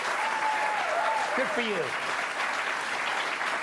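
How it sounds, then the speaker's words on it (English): Steady audience applause, dense and even throughout, with a voice briefly speaking over the clapping. "Always sympathy applause."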